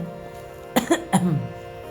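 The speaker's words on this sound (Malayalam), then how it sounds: "ഇടയ്ക്ക് ചുമ വന്നു കേട്ടോ സോറി" Two or three sharp coughs in quick succession, close and fairly loud, with no talking around them.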